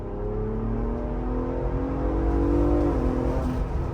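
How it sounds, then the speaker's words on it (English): A Ford Bronco Raptor engine revs loudly up and down with downshifts, a close, continuous throaty drone whose pitch rises and then drops sharply through gear changes, with no voices. "Oh, the downshifts are great."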